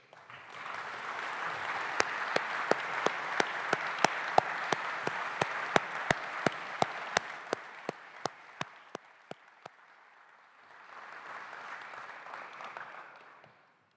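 Audience applause for an award winner walking to the stage fills the room for several seconds, with a few sharp louder claps standing out, then fades, pauses and swells again more softly.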